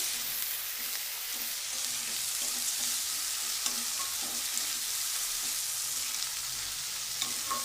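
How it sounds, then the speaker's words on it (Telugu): Masala for khadi dal curry fries in hot oil with an even, unbroken sizzle and faint crackles. It is heard close up and steady, with no voices. "ఇది కూడా ఈ ఆయిల్లో కొంచెం వేగాలి, అంటే ఆ పచ్చివాసన పోయేదాకా వేగాలి."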